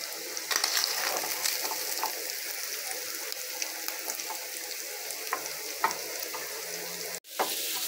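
Bell pepper, sliced onion and garlic paste frying in a pan, a loud continuous hiss of sizzling oil close up with occasional spoon taps, unbroken until a brief cut near the end.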